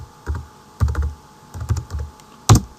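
Computer keyboard typing in short bursts of a few keystrokes each, close and fairly loud, with brief pauses between clusters and no talking.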